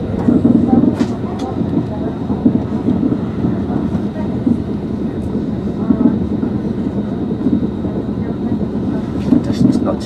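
Northern passenger train slowing to a stop at a platform near Nottingham, a steady low rumble and rattle of the carriage throughout, with scattered clicks and faint background voices.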